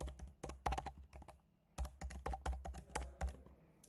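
A customer's email ID is typed on a computer keyboard for a PAN card correction, giving rapid, close key clicks in two dense bursts split by a brief pause, with no voices.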